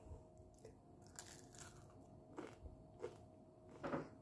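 Crisp bites into a breaded vegan croquette, a few separate crunchy snaps spaced over several seconds, close and fairly quiet with no talking.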